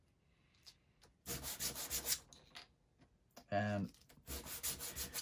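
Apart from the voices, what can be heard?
sanding wooden UGears model parts with sandpaper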